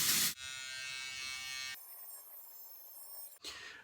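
A Schick Hydro 5 five-blade razor, an electric-style buzzing groomer, hums steadily at close range, shifting pitch midway and cutting off near the end, with no talking.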